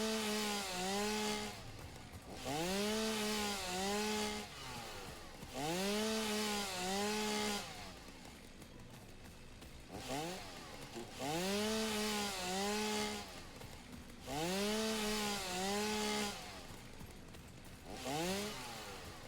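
A chainsaw in the Satisfactory video game cutting through leaves, its engine revving up and dropping back in repeated cycles of about two seconds, loud and steady throughout with no speech.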